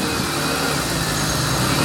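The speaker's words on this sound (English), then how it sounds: "Listening to the sound of the engine." A used car with 97,576 miles idles at a dealership lot in Hicksville, New York, giving a steady, close, unbroken engine drone with no talk over it.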